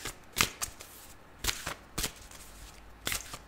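Tarot cards being shuffled by hand: several brisk riffling bursts separated by short pauses, close and crisp, with no voices.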